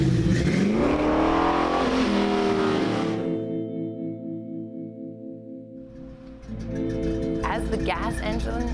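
A classic hot rod's engine rumbling and revving loudly up close, with a steady droning idle in the middle that settles and then revs again, with someone talking alongside it.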